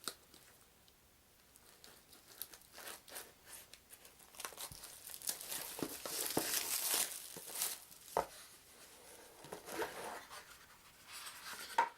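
Cardboard packaging of a Fantasy Flight Games Elder Sign Unseen Forces expansion box being opened, with close, quiet tearing and crinkling that builds into a denser rustle midway, alone without talk.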